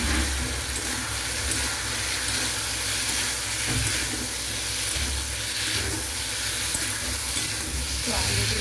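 Potatoes fry in a pan in a steady loud sizzle, with a close, continuous hiss and occasional soft scraping as they are stirred.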